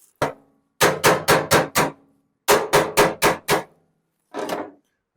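Hammer blows on Super Beetle front-end sheet metal, driving it toward a support rail: one lone strike, then two quick bursts of four and five sharp metallic whacks, and a final softer hit, close and loud with no talk.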